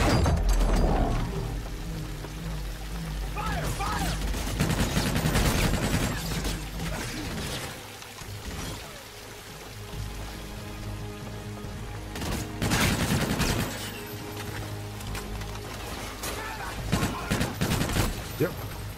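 Call of Duty Infinite Warfare gunfire, bursts of rapid automatic shots and weapon mechanisms in a busy game soundscape, loud and dense at times, with voices speaking over parts of it.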